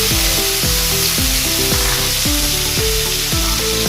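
Pieces of tofu fry in hot oil in a kawali, producing a loud, constant close sizzle with a dense crackling hiss and faint rhythmic clatter throughout, with no one speaking.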